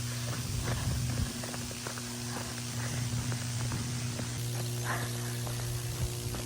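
Buzzing from high-voltage power lines along the Appalachian Trail, a steady low electrical hum with crackling static over it. It continues throughout with faint footstep-like rustles and no talking.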